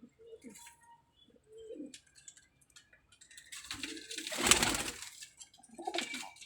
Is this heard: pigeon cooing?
yes